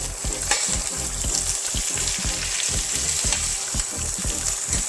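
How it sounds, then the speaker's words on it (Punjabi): Cauliflower frying with onions in a hot pan, a loud steady sizzle with rhythmic stirring scrapes and thumps repeating every half second or so, close and alone without talk. "ਗੋਭੀ ਨੂੰ ਆਪਾਂ 2 ਮਿੰਟ ਵਾਸਤੇ ਪਿਆਜ਼ਾਂ ਦੇ ਨਾਲ ਭੁੰਨਾਂਗੇ"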